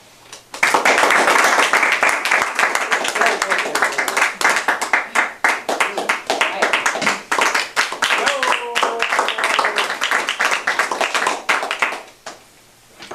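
Toastmasters club audience applauding after a speech, a dense burst of many hands clapping for about eleven seconds before fading, close and loud with faint voices mixed in.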